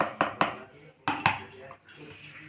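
A metal spoon clinks against a bowl and pan while adding cornflour to chili chicken, with several sharp taps and scrapes in an irregular rhythm, close and fairly clear.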